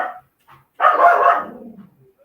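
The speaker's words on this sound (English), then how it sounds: "I'm so sorry for my dog." A dog barks once indoors, a single loud, close bark after a faint yelp, then quiet.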